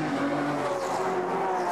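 An Aston Martin V12 GT3 race car at Bathurst's Mount Panorama circuit in an Australian GT Championship round, its engine droning steadily and loudly at high revs for the whole stretch, with no talk over it.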